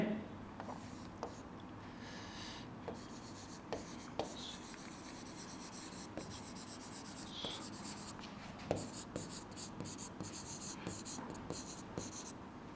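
Pen scratching out notes on paper during a biology lesson, a steady faint scribbling with small taps and strokes, heard near and low under a background of room noise and occasional speech.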